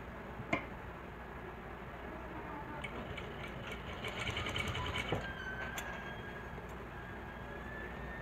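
A sewing machine stitches close along the neckline of a lehenga blouse, a low steady mechanical hum with faint ticking and a few sharp clicks, close and moderately quiet.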